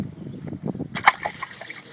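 Coolant gushing out of a 7th-generation Honda Civic engine as the water pump comes off during timing belt service, a short sloshing splash over faint background handling noises.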